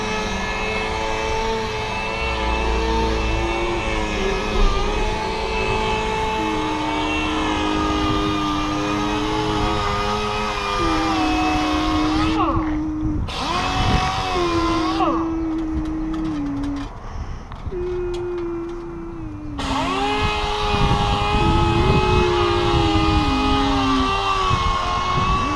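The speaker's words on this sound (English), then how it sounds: "He's sanding the hull." A power sander works a boat hull being prepped for paint, a continuous whining drone with shifting pitch that cuts out briefly twice before resuming, close and loud.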